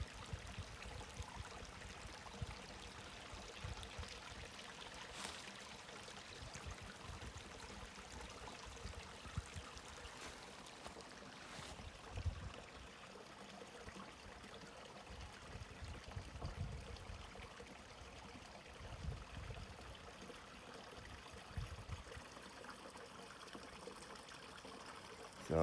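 A creek on a mountainside flows steadily in a low, faint trickle and babble, continuous and fairly distant.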